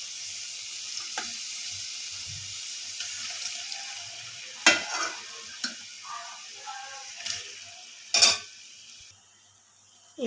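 Pasta fries in a pan with tomato puree, giving a soft, steady sizzle and a few sharp clinks and scrapes of a utensil against the pan.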